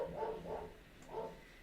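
Several dog barks sound at a moderate distance, three short bursts spaced across a moment with no talking over them.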